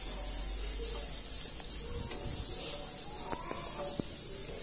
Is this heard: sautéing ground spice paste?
yes